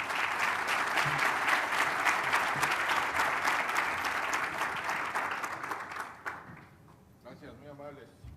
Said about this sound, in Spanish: Un fuerte aplauso a Fernando Turner.